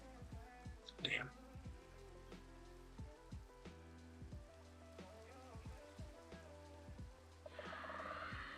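Steady rain falls in the Minecraft game world, a soft continuous patter under other quieter tones, growing denser and louder toward the end.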